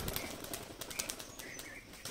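Giribaj pigeons released outdoors beat their wings in a soft, faint flurry of flapping, with light chirps and distant background noise.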